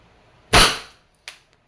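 A Wingun 708 airsoft revolver fires one loud, sharp pop followed by a quick decaying tail, then a fainter second click or snap a moment later. No one speaks.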